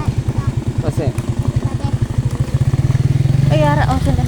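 A motorcycle engine idles with a rapid, chugging putter close by, revving slightly near the end while people talk over it.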